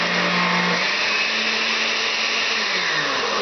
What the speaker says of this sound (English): I'm going to blend in this case.